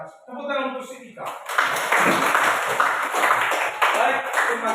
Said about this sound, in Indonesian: Tepuk tangan untuk si Ika.